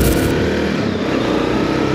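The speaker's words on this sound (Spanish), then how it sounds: "Estamos a bordo de la Sontes R250. Una motocicleta carburada de 250 centímetros cúbicos" A carbureted 250cc Sontes R250 motorcycle engine drones steadily and loudly from on board while riding, a continuous rough hum mixed with wind rush and road noise.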